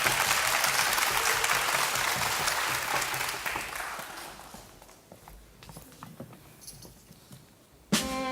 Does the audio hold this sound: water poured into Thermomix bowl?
no